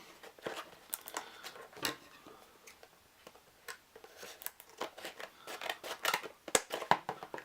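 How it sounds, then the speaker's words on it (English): Repeated crisp snipping and crackling of scissors cutting open stiff plastic packaging of a board game miniature pack, irregular bursts close to the microphone, no talking. "That's why I'm using scissors and not a mat knife"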